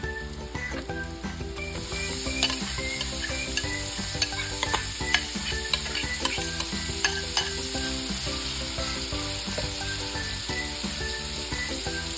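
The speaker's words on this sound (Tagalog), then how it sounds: "Habang ginigisa natin ang ating karne" Ground beef sautés in a pan for baked lasagna, a steady sizzle under repeated scraping and stirring strokes, close and continuous throughout.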